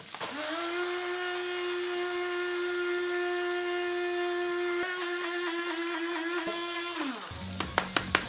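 A spice grinder whirs loudly and steadily, grinding cinnamon stick and cumin seed for several seconds, then winds down, followed by a few sharp knocks as the grinder is handled.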